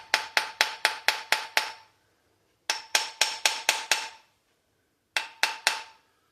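A hammer taps the wedge of a wooden hand plane in three sharp, evenly spaced runs of knocks, seven, then six, then three, close and crisp with silent gaps between.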